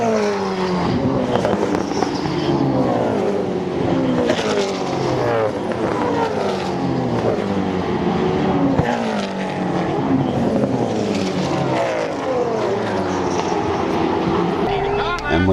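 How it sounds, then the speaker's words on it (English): V8 Supercars thunder down Conrod Straight at Bathurst at close to 295 km/h, a continuous loud engine roar with rising and falling pitch as cars pass, under steady race commentary. "As the V8's thundered down Conrod, it looks every bit of 295 kilometres an hour going through there."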